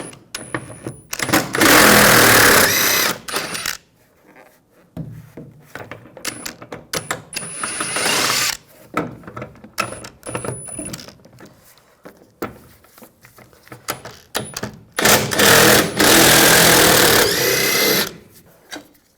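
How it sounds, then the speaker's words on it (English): A 15mm socket on a power tool backing two rear bumper bolts out of a 2011-2018 Ram 1500, heard as loud whirring bursts separated by pauses with light metallic clinks, no voices. "Now we'll take these 2 bolts out, use a 15mm socket."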